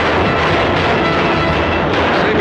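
Gunfire in a Superman movie trailer comes as a dense, continuous roar of loud blasts and rumble that fills the whole clip, with no voices heard.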